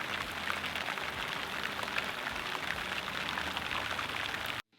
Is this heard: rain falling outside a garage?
yes